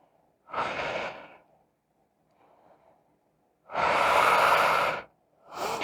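A person holding yoga eagle pose takes slow, audible breaths: a long exhale, then a faint quiet inhale, then a louder, longer exhale, with another breath beginning at the end.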